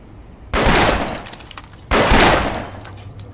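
Two sudden loud bursts of gunfire in the anime Chainsaw Man, aboard a train in a tunnel, each a sharp blast with a long ringing decay, about a second and a half apart.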